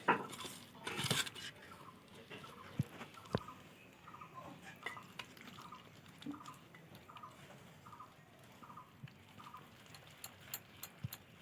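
Gram flour batter for bok phool fritters is worked by hand in circular motions while water is added a little at a time, making soft, wet squelching pats in a steady rhythm. A few sharper clinks come early on, and no one talks.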